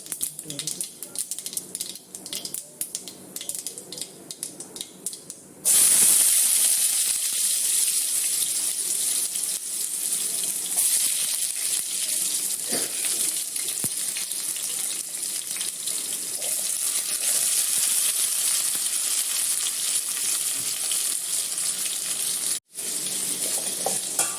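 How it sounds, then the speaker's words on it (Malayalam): Mustard seeds splutter in hot oil while a chicken thoran is being cooked. A quiet start gives way to a loud, steady crackling sizzle that runs on close by, with a brief drop near the end. "കടുക് പൊട്ടുമ്പോൾ"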